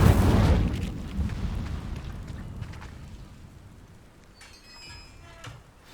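A fiery Incendio spell cast in Hogwarts Legacy, opening with a loud whooshing burst that rumbles and crackles before fading into a low, dwindling roar.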